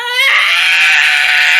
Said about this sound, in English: they open their mouths to let out an ungodly scream